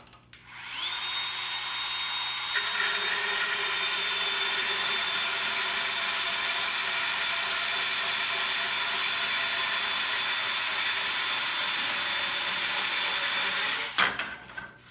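A Bosch cordless compact band saw cuts through wood in one long, steady, close whine that starts, shifts slightly in pitch, then stops abruptly, with no talk.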